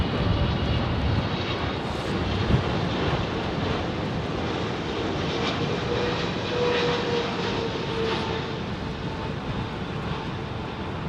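An airliner at London Heathrow Airport roars in a broad, continuous engine wash that stays loud and steady throughout, with light wind buffeting and no talk.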